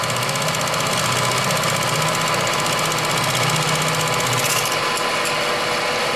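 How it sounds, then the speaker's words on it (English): Wood lathe spinning at 900 RPM while turning a translucent maple vase, a continuous loud machine drone with rumbling vibration and scraping texture, steady throughout with no talking. "Lathe is running at 900 RPMs."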